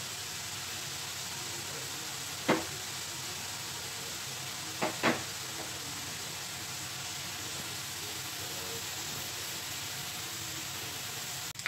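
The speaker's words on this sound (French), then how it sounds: "Voilà nos lardons. Je laisse un peu le temps de les faire dorer." Smoked bacon lardons browning in a pan give a steady, even sizzle and hiss that runs the whole time, with a few brief clicks and knocks near the start.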